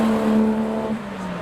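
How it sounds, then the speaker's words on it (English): A Honda Civic Type R at a drive-by car show accelerates past close by, a loud strained engine tone holding steady then dropping in pitch as it moves away, all within a second and a half. "Civic Type R. He's on it."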